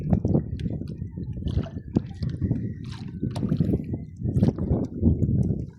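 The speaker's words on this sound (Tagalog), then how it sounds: "Ay malakas ang alon at hangin." Rough sea waves and strong wind buffet a small boat off Siargao Island, with irregular sloshing splashes and gusty rumble close by, and bursts of water slapping against the hull throughout.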